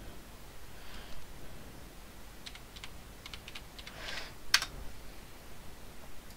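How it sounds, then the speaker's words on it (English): Computer keyboard typing a search query, a quiet run of light scattered keystroke clicks that bunch into short bursts midway, close by, with no talking. "Let's type in what are the patch notes"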